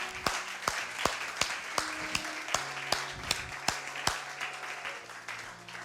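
A church congregation claps in a steady rhythmic beat, about two claps per second, with a faint background tone and no talk over it.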